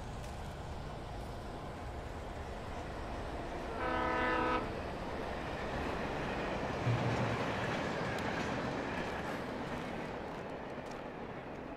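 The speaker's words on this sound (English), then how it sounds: "Now we're in a train yard." Passing train in a train yard in the video game Alan Wake, a loud horn blast sounding near the 4-second mark over a steady rumble of rolling railcars and ambient game noise.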